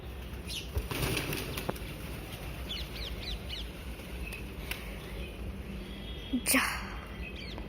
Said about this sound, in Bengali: কত ছোটো ছোটো পাখি এসেছে